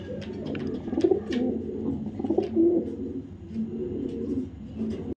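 Racing pigeons coo softly and repeatedly at close range, low throaty rolling calls overlapping one another, with faint flutters and scratches in the background.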